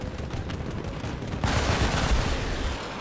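Turret gunfire in the video game Battlefield 2042: a steady rumble of distant fire jumps to a louder, denser burst of rapid shots and booms midway, with heavy low thuds continuing to the end.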